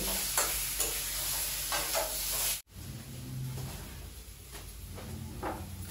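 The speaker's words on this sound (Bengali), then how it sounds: "এই যে আমার ডিম আর আলু কষা হয়ে গেছে, এবার দিয়ে দেবো একটু জল" Egg and potato frying in a pan: steady sizzling with scraping stirs, cut by a brief dropout before the sizzle resumes, softer and hissing, with more scrapes after water is added.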